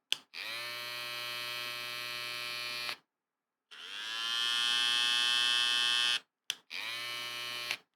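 Mini Candy 1855 hair trimmer with a brushless motor running in three separate bursts, a steady high-pitched electric whine with a strong harmonic buzz, the middle run longer and rising in pitch, close and loud with no talking.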